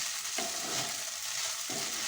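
Egg pasta stir-fried with tomato sauce in a hot pan gives a steady close sizzle, with two louder scraping stirs cutting through the hiss.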